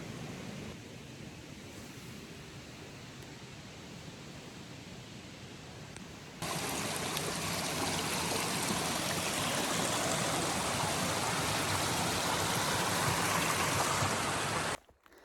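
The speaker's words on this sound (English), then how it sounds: "the rushing water right next to my tent" Rushing water of a stream right beside a tent on the Appalachian Trail, a steady broadband roar that runs unbroken, then grows noticeably louder partway through and continues alone with no voices.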